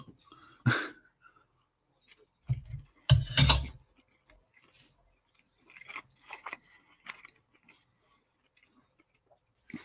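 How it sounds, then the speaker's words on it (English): Someone eating breakfast, with a few close, separate bites and crunchy chews scattered between quiet pauses, along with light clinks. "I hope my video is not just going to be chewing sounds"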